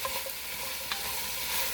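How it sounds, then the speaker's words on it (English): Chopped onions sizzle steadily in a hot pot on high heat, a dense continuous frying hiss with a faint scrape of stirring, no voices. "Stirring these onions in."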